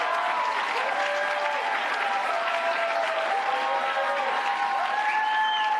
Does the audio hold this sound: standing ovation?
yes